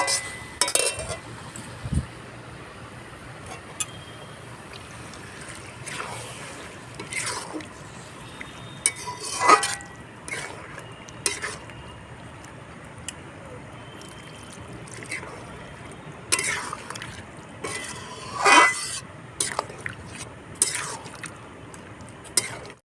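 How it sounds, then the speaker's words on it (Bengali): Water goes into a pot of jackfruit and potato curry, heard as scattered clinks, utensil knocks and liquid sloshes against a quiet background, spread unevenly over the stretch. "অনেকটাই সেদ্ধ হয়ে গেছে আলু আর এঁচো আমি এবার সামান্য জল দিয়ে দেবো"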